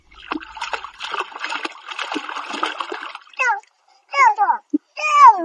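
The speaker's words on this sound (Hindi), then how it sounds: "आज पानी से खेल रहा है" A small child splashes and plays with water while bathing at home: choppy, broadband splashing fills the first few seconds, then gives way to several short, high child vocalizations, up close.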